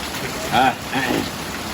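Steady rain falls in cold weather, a constant hiss of drops on surfaces close by, while a voice speaks briefly over it.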